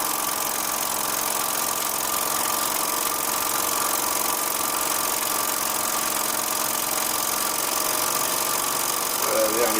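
A Bowman M140 model steam engine running on compressed air at about 5 psi, giving a steady, even hiss and whir at moderate level throughout.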